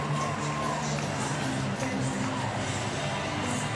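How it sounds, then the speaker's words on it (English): Baseball stadium crowd reacting after a Pirates walk-off win over the Astros: a steady, dense roar of many voices fills the whole stretch, loud and constant with a commentator talking over it. "The crowd reacts."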